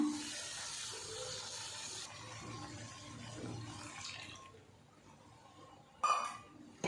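Water pours steadily into a cooking pot of bitter gourd kuzhambu with a hissing splash for several seconds, then tapers off, followed by a couple of brief clinks.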